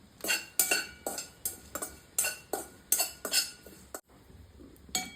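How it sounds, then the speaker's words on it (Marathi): Fennel seeds and cardamom roasting in a hot kadhai, stirred with a metal spoon that scrapes and clinks against the pan in a steady rhythm of sharp, close strokes, with a brief pause near the end. "कढई गरम झाली, बडीशेप भाजण्यासाठी टाकू आणि त्याच्यामध्येच विलायची पण टाकायची आहे."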